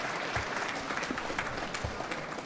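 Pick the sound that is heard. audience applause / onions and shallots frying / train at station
audience applause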